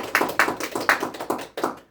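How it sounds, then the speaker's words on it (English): A small group claps for the winner of a game, with about seven quick, distinct claps in an uneven rhythm that stop after a couple of seconds. "Please give a round of applause as she's leading the"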